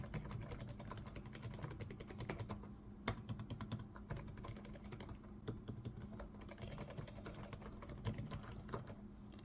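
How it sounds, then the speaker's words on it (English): Fingers tap across the keys of a Lenovo Ideapad Y500 gaming laptop keyboard, a continuous run of close, light plasticky clicks with irregular rhythm and a few brief pauses, heard alone. "I'm trying to see if the keyboard is working good"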